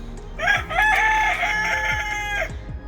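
A rooster crows nearby in one long, loud call, with young chickens and hens clucking softly around it.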